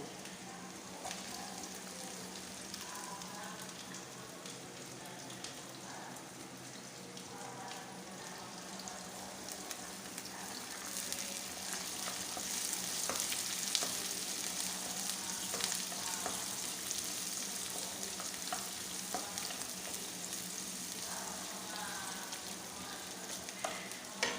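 Garlic sautés in a pan for sautéed green mung beans: a soft, steady frying crackle with light spattering, fairly quiet and close, with no voices over it.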